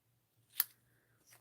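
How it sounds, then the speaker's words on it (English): Scissors snip paper for a stamping craft project, one crisp close cut followed by a softer second snip a moment later, in an otherwise quiet room. "Just gonna snip"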